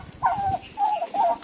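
Domestic turkeys call on a muddy farm, three short, nasal, gobbling bursts close by with brief gaps between them.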